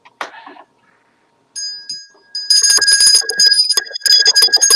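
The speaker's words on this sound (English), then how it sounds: "I have here. Hold on, 7 lucky hotel bells." A set of seven small hotel desk bells rings out in quick, bright overlapping strikes, sustained and loud, after a brief burst of a voice and a pause.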